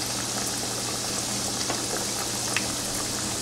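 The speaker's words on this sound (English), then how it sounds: "Now we're going to fry the pierogies and get them ready for dessert" Buttered cheesecake pierogies frying in a pan, a steady close sizzle and crackle of hot butter with faint pops scattered throughout, no voices.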